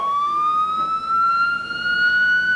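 An ambulance siren holds a single steady rising wail, loud and close, with a faint engine rumble underneath and no voices.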